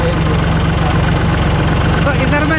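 A Massey Ferguson 5245 tractor engine idles steadily up close, a continuous low diesel rumble with a constant pulsing throb and no pauses.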